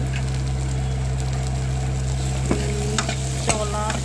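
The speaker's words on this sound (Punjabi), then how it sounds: "ਹੁਣ ਮੈਂ ਪਾਵਾਂਗੀ ਇਹਦੇ ਵਿੱਚ ਤੜਕੇ ਦੇ ਪਿਆਜ਼" Steady sizzle of onions frying in a pan for a tadka, with a few sharp metallic clinks of stirring near the end; no voices.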